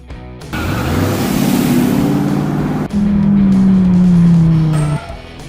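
Tow truck engine drones loud and close with a whining, humming tone in two stretches, split by a short break, then cuts off near the end.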